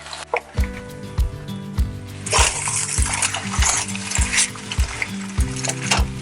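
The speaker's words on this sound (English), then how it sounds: "we're going to flip it over, and I'm using these 2 very large spatulas" A Korean pancake in thin watery batter sizzles and spits in a hot pan as two large spatulas scrape underneath and flip it, a bright burst of frying rising midway over repeated low thumps and scraping.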